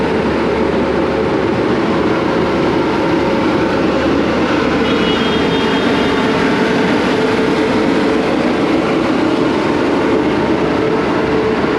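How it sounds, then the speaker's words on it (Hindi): A diesel locomotive heading train 02424, the New Delhi–Dibrugarh special, rumbles steadily at New Delhi railway station, a continuous loud idling drone with a faint whine, no voices. "ये था इसका लोकोमोटिव।"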